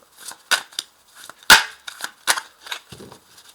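Tarot cards slapped down one after another onto a table, a series of sharp, close snaps and flicks at an uneven rhythm with one especially loud smack in the middle.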